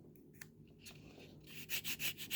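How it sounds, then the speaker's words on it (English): Sanding stick rubbing against a 1/16 scale Tiger 1 tank model kit, a few soft scrapes at first, then a run of five loud rhythmic back-and-forth strokes up close, with no talking. "I've had this sanding stick for years now"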